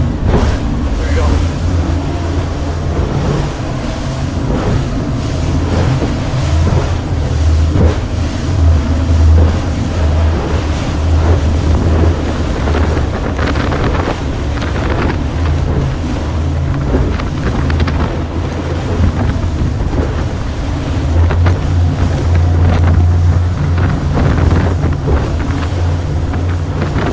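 A Bluewater 25T boat drives at speed straight into a head sea, a steady loud engine drone mixed with heavy wind buffeting on the microphone and repeated thumps and splashes as the hull slams through the waves.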